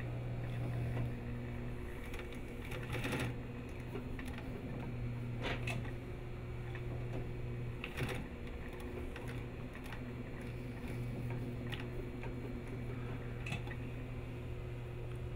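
A sewing machine stitches down the rise of a fly front zipper, its motor giving a steady close hum throughout with faint clicks and small knocks from the needle and fabric.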